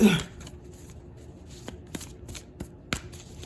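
Tarot cards are shuffled by hand: a burst of riffling at the start, then a few sharp separate card snaps and taps spaced through the rest, fairly close and moderately loud.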